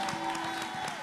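Church congregation clapping and cheering for Jesus Christ, a brief burst of dense, loud applause filling the room.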